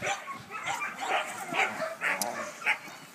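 A Schnauzer in protection training does hold-and-bark work, giving a run of sharp, close barks and short yips in an uneven rhythm, with no speech over them.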